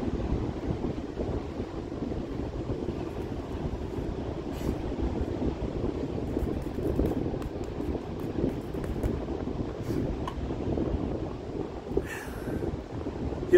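Steady outdoor wind rushing and buffeting against the microphone, a broad continuous roar with a few faint clicks and handling knocks, no voices.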